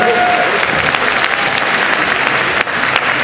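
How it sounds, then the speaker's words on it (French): Loud, steady applause from a science-fiction festival audience fills the hall, dense clapping sustained throughout with a slight dip near the end. "Applaudissez-vous."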